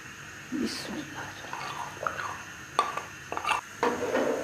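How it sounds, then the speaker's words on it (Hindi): A spoon stirs soaked, ground raw rice into milk in a pot for kheer, with soft scraping clinks against the metal and light liquid swirls, faint and intermittent under someone talking. "अब जब तक इसमें उबाल नहीं आता मैं चम्मच चलाती रहूँगी इसमें ताकि ये चावल नीचे ना लगे।"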